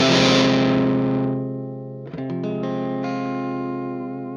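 An electric guitar through an Electro-Harmonix Hell Melter distortion pedal rings out a loud, fuzzy chord that decays, then a second gritty chord is struck and sustains, no voices.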